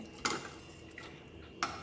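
Metal cooking pots clink together as one vessel is set on another to drain cooked lentils and greens. Three bright, close clanks ring out at separate moments against faint kitchen background.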